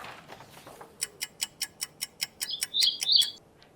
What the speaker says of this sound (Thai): นกค่ะ